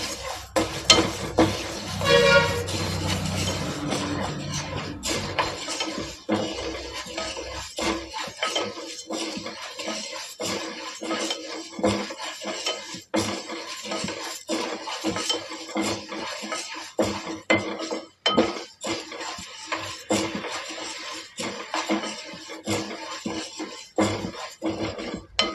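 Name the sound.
stirring moong dal roasting in a pan on medium flame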